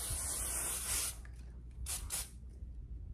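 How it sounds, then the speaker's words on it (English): Redken Triple Take 32 hairspray sprays in a long, steady hiss lasting about a second, followed by a few shorter, softer bursts, close to the microphone. "Oh, hairspray's right here. Redken Triple Take 32."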